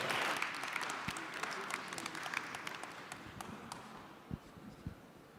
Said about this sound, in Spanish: Por favor, démosles un fuerte aplauso y comenzamos.